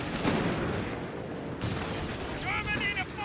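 Rattling gunfire and bursts of battle noise from a Company of Heroes 3 firefight fill the whole stretch, with game voices shouting over the din.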